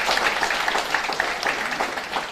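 An audience at a reception applauds for Nigel, steady dense clapping from a room of people, moderately loud and continuous with no talk over it.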